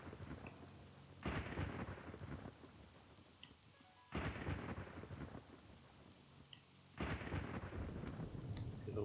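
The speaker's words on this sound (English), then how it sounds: "Oops, running too close to the lightning again." Three long rolling thunder crashes with lightning strikes, each arriving about every three seconds over steady rain, in a forest level of the video game Ninja: Shadow of Darkness; loud and close, no talking.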